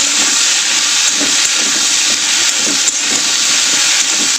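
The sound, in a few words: okra frying in oil in a kadai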